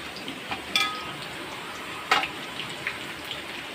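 Spring rolls deep frying in hot oil, a continuous bubbling crackle with a few sharper pops and clinks, close and moderately loud, with no voices.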